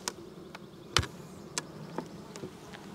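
Honey bees hum around an opened hive of eight frames, a low steady drone close by, with occasional sharp knocks and clicks as the frames are handled.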